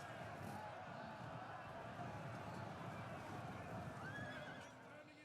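Horses whinny and neigh amid the clatter of galloping hooves as cavalry clash in a Total War battle, a loud, dense melee with a narrator talking over it.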